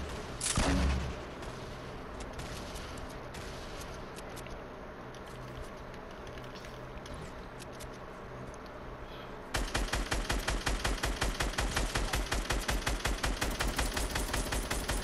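Fortnite gunfire: scattered shots and explosions at first, then a loud, rapid, evenly spaced burst of automatic fire over the last five seconds.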